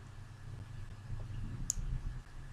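A single sharp mouse click on an OK button in a spreadsheet program, close and crisp, standing alone against a quiet room hum with no talk.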